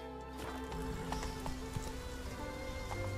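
Hollow clip-clop hoofbeats of a horse in The Witcher 3 trot along at a steady pace, mixed with a soft patter, all at low volume with no talking.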